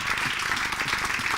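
Audience at a youth television programme applauds the comic artist Derib, a dense, steady wash of many hands clapping, fairly close and continuous through the short span.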